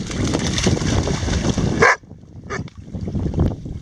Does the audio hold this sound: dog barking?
yes